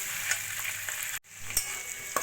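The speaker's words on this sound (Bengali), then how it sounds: "সবজিগুলোকে খুব ভালো করে ভাজা ভাজা করে নিয়েছি" Fenugreek greens and vegetables fry and sizzle steadily in a pan, a continuous crackling hiss broken by one brief silent gap, with faint stirring scrapes, no voices.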